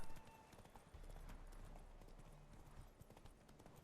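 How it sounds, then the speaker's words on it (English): Hooves clip-clopping from a white horse galloping in The Witcher 3 game, a steady rapid beat held loud and close throughout the short stretch, with no voices over it. "I kind of like riding a white horse."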